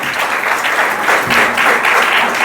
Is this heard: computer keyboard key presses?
no